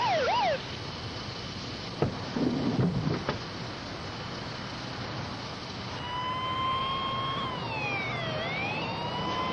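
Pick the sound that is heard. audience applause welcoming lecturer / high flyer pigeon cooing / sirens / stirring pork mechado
sirens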